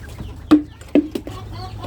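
Chickens clucking in a farm setting at feeding time, a few short loud clucks standing out over a low steady background hum.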